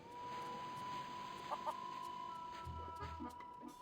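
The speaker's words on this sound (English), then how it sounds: "There's a feral chicken." A feral chicken in the video game The Curse of Monkey Island gives a few soft clucks near the end, over a steady hum of game ambience.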